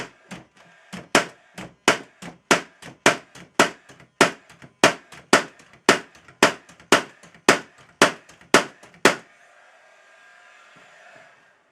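A Paslode cordless 16 gauge angled finish nailer fires into plywood in a quick, steady series of about twenty sharp bangs, close and loud, followed by the fainter whir of its exhaust fan.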